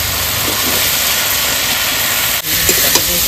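Taro stolons go into a pan of fried ginger-garlic paste, cumin paste, dried red chili and green chili. A loud, close, steady sizzling hiss fills the whole stretch and dips only briefly once.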